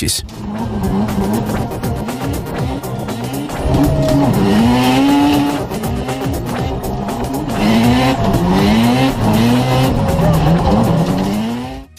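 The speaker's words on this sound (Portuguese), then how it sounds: "O trator fez manobras incríveis de dar inveja até nos pilotos mais experientes." Tuned 1956 Volvo BM Terrier tractor doing stunt maneuvers, its engine revving hard in rising and falling surges with tire squeal and skidding, loud and close throughout, while a narrator talks over it.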